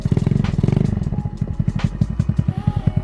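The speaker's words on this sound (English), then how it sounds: "Yeah, absolutely lovely running bike. Need to pick the idle up a little bit or let it warm up first." Honda Ruckus Zoomer scooter with a GY6 150cc engine idling while still cold, a loud close rhythmic putter with a rough, slightly uneven beat that settles into a steady slow pulse.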